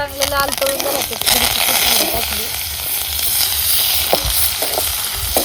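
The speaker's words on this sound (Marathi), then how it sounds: "बोंबील चांगलं धुवून झाले ते आणि टाकले ते कढईमध्ये" Bombay duck fish sizzle and crackle in a hot kadhai, a loud continuous frying hiss with occasional stirring clatter while someone talks over it.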